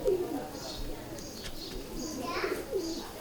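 Soft, low coos from a Kamgar pigeon on a rooftop in Wassanpura come and go faintly beneath nearby voices talking.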